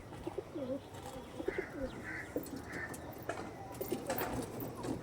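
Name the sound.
pigeons cooing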